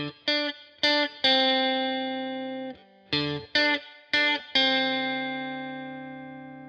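Electric guitar plays a short soul intro riff based on a horn-section line, played twice: quick plucked notes building to a held, ringing chord, with a light effected, slightly distorted tone and no talking.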